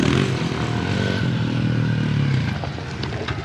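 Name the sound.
Honda CRF110 dirt bike revving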